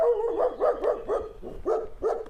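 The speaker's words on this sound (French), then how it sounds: "ça c'est le chien" A dog barks repeatedly in a quick, steady rhythm, about eight loud, close barks with no voices over them.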